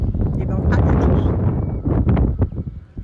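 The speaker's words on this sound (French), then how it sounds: "J'espère que vous m'entendez parce qu'il y a du vent." Wind buffets the microphone in Iceland in a loud, continuous low rumble, with a voice faintly underneath.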